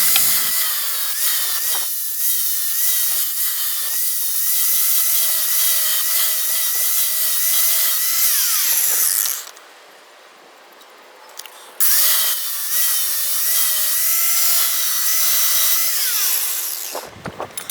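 A handheld power tool grinds a steel lawn mower blade to sharpen it, a loud high whine that runs in two long passes and spins down with a short quiet break between them.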